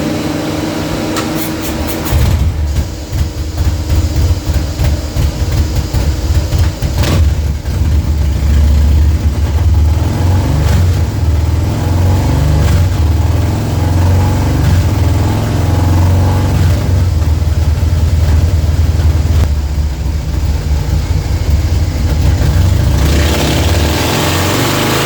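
A Harley-Davidson Breakout fitted with a 128ci kit engine and CR483 cam rumbles loudly and steadily at close range, its deep idle swelling into repeated revs over roughly twenty-five seconds with no talking.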